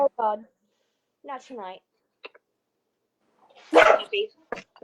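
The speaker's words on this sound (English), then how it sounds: "And sorry about the dog." A dog gives a few short barks and yips between bursts of nearby talk in a quiet room, with a louder noisy burst near the end.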